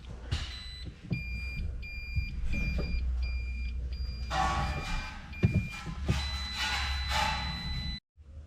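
A Toyota RAV4 EV electric car under repair starts up, giving a series of repeated electronic beeps and chimes over a low hum and clicks before cutting out abruptly near the end.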